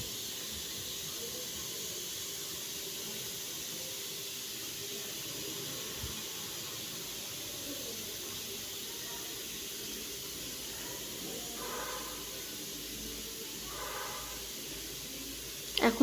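Bengali-style chicken kosha is sautéed in a pan, giving a steady, even hiss of sizzling throughout, with a couple of faint clinks near the end.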